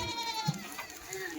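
Kathiawadi goats bleat in a short, close burst with a thin, wavering cry over low farmyard background noise.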